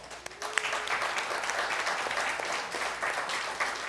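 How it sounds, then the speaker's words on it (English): Applause at an LT6 Corvette engine build presentation at the National Corvette Museum anniversary event: a steady, moderately distant round of clapping from a crowd, sustained evenly for several seconds without speech. "Let's give him a round of applause."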